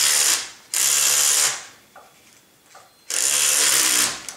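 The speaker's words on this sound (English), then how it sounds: "we'll remove these rear screws" Power screwdriver or ratchet driver backing out the rear screws on a Trex 700E PRO DFC RC helicopter, two loud, close bursts of buzzing whir separated by a quieter pause with faint clicks.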